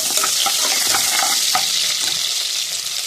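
Onions fry in a pan for a veg biryani, a loud, close, constant sizzle broken by several quick stirring scrapes.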